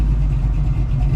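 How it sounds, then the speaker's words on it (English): Blue Chevrolet C10 truck with a new custom 2.5-inch stainless steel exhaust, its engine revving loud and close in a steady deep rumble throughout, with no voices over it. "that is it on the blue C10 new exhaust."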